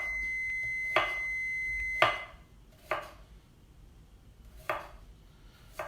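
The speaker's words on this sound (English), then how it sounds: "So do the both ends of the radish. And then I'm just going to do thin slices here." A knife cuts thin slices of radish on a cutting board in a quiet kitchen, a few sharp, separate chops spaced about a second apart, with a faint electronic tone in the background early on.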